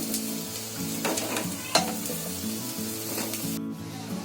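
Raw banana koftas frying in hot oil in a pan, with a steady close sizzle and occasional stirring scrapes and clinks throughout, no talking.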